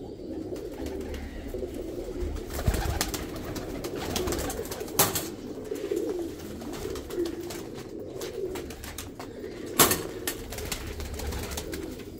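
Teddy pigeons cooing softly and repeatedly at close range, low throaty coos over a steady background with a couple of brief sharp knocks.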